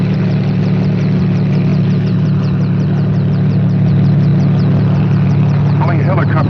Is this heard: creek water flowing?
no